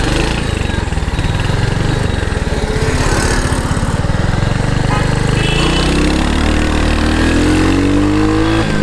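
A Royal Enfield Hunter 350 motorcycle engine thumps loudly and close, then accelerates with its pitch climbing steadily through the second half of the run.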